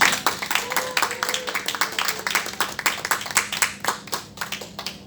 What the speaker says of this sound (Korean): 우리 또 한번 우리 하나님 영광 올려드릴 우리 오늘 박수했으면 좋겠는데